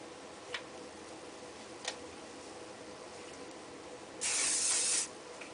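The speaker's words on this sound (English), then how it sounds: "Spray a little with flexible hold hairspray." Short hiss of flexible hold hairspray misted onto messy, textured hair, one steady burst of about a second near the end, preceded by two faint clicks in a quiet room.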